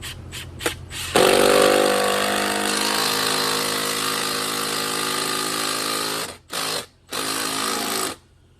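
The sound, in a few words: tightening wall mount lag bolts with 14 mm deep socket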